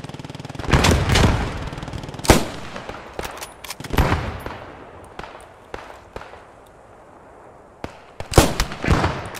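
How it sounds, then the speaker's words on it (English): Grenade blasts and gunfire in the military shooter game Post Scriptum, several heavy booms and sharp shots spread unevenly across the stretch, loud and close with quieter gaps between. "Throw grenades over the wall"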